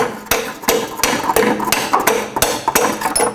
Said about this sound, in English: You can use a little hammer to drive it in.